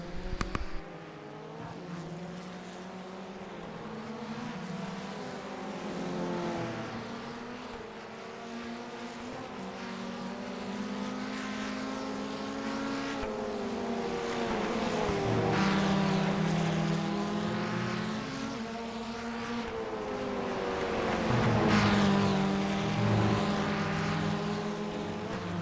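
FF1600 race cars at Oran Park in the iRacing sim run nose to tail through the horseshoe, engines rising and falling in pitch as they brake and accelerate, a continuous loud, close drone with no talk.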